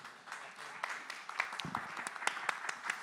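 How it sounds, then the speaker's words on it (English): Scattered applause from a conference audience at a leadership session in Istanbul, fairly faint and uneven with a few louder individual claps standing out, no voices on top. "a grand applause"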